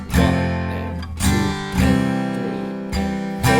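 Guitar strumming the final chorus of a song, played without a capo: loud, full chords struck in a steady rhythm with sustained ringing between strums, heard alone.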